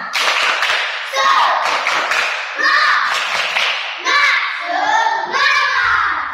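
Schoolchildren in an Indonesian classroom perform a rhythmic spirit clap in unison, bursts of sharp patterned claps in repeated phrases with pauses between, mixed with children's chanting voices.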